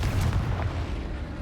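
Confringo spell explosion in Hogwarts Legacy, a loud booming blast with heavy low rumble that fades slowly over a second and a half.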